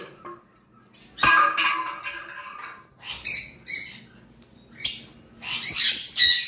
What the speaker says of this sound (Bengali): তো এই আমাদের লাভ বার্ডগুলো দেখাচ্ছি শুধু